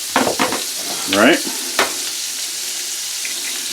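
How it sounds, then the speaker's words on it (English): Eggs frying in a tilted frying pan give a steady hissing sizzle that runs the whole time, with short clatters of a utensil and a brief spoken word near the start. "we're going to do our eggs in the frying pan along with it"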